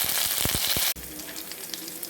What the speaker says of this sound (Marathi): गरम तेलामध्ये मोहरी घातली आहे फोडणी करता यामध्ये मी हिरवी मिरची आणि कढीपत्ता घालून